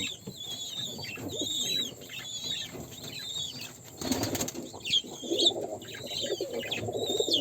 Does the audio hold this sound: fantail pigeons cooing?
yes